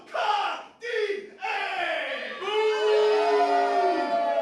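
Wrestling crowd at an IWE BattleZone show cheering and yelling for Stuntman Mike, a loud swell of voices that rises into sustained chanting-like roars.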